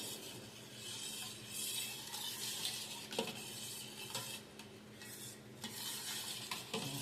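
Food being stirred and mixed in a pan, with soft scraping and clinks of a utensil over a faint sizzle, quiet and close with no talk.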